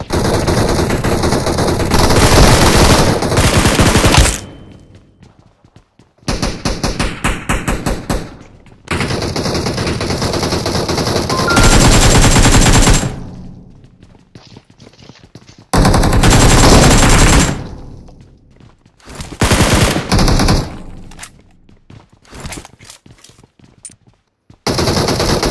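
Loud machine gun fire from a video game roars in long sustained bursts separated by brief pauses, close and dominant over any background.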